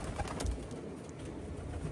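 Racing pigeons cooing at an outdoor loft after a 20-mile toss, soft repeated coos over steady broadband background noise, fairly close, without talk.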